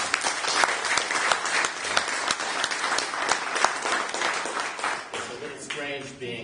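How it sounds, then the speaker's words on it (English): Applause for the Waterline Writers organizers at a literary reading night, a dense burst of many hands clapping close and loud that tapers off at the end as a voice begins to speak. "give you all a round of applause for everything you've done for us"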